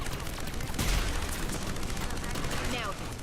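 A turret in Mass Effect 3 fires rapid bursts of gunfire amid the dense din of combat, with a heavy shot near the start and continuous crackling shots after, with faint voices underneath.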